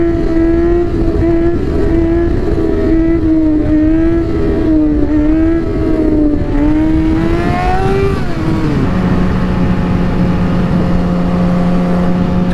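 A motorcycle engine rides along a road, loud and close, its note climbing and wavering through gear changes before settling to a steady lower drone toward the end, with no talk over it.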